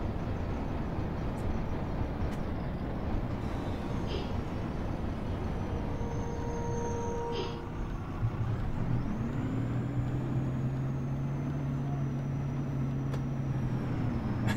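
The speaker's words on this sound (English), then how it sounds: "I quite like the sounds of this bus." A Rocar De Simon U412-260 bus drives in the OMSI 2 simulator, with a steady loud engine drone throughout, a whining tone that rises and falls midway, and brief hissing clicks.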